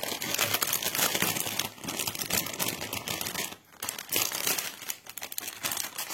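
A plastic package of zip bags being opened, with steady close crinkling and rustling of plastic that carries on for several seconds, pausing briefly once before resuming.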